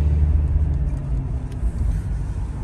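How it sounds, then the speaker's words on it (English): A 2004 Lincoln Town Car V8 accelerates, a steady loud low engine rumble and road noise from inside the cabin, continuous without speech. "Gotta have that V8 in the Lincoln to overtake semi-trucks,"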